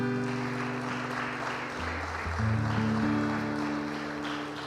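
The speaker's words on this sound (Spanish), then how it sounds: "Dale un fuerte aplauso al Señor." A church congregation claps steadily in a dense, even wash of applause, with sustained keyboard or organ tones holding underneath.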